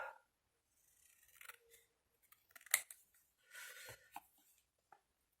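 Scissors snip through paper to cut out a shape for a homemade baby house craft, giving several short, close, crisp cuts separated by quiet pauses.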